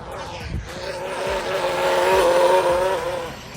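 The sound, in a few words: Arrma Mojave RC trucks racing, tires skidding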